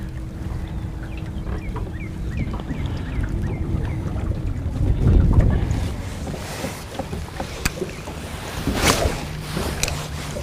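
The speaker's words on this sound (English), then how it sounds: "we've had some pretty significant wind gusts blowing through here today" Wind gusts buffet the microphone in rough surges, with water lapping nearby and a stronger blast around the middle and again near the end.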